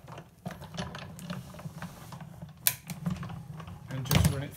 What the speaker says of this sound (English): I'm going to layer it up with the Big Shot machine